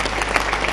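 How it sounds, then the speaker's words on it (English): Audience clapping at a commissioning ceremony for a textile factory, a short dense burst of applause heard from within the crowd. "PS Kamau Thuge, please give him a big clap."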